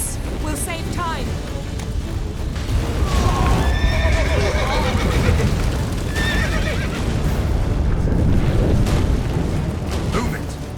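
A horse in The Witcher 3 whinnies loudly several times over galloping clip-clop hooves, with game battle booms and character voices mixed in.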